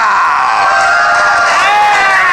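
Studio audience at a Movie Trivia Schmoedown event cheering loudly, a bright, sustained wall of whoops and shouts that swells slightly toward the end, close and intense.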